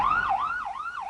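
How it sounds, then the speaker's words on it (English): A wailing emergency siren in Washington traffic on September 11, 2001 sweeps up and down in pitch, rising and falling in steady cycles, loud and close, with no voices. "It was sirens in traffic"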